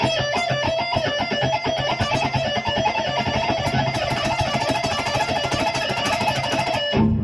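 Rapid, continuous shred guitar picking running a six-note pattern through scales, a dense stream of fast notes for several seconds before stopping abruptly, loud and alone.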